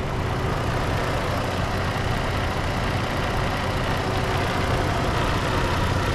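The 3.7 liter V6 of a 2011 Dodge Nitro Heat 4x4 idles with a steady, even rumble and light vibration. It is heard alone for several seconds, loud and close, with no talking.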